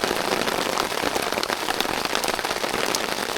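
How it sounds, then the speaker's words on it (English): Heavy rain pours down during a storm at dawn, a dense steady hiss of large drops striking the ground and surfaces nearby, with scattered louder splats and no voices. "It's pretty fat rain falling."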